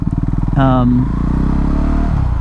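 Motorcycle riding through Minneapolis, a steady engine hum and rumble with a brief rise in pitch, while someone speaks over it throughout.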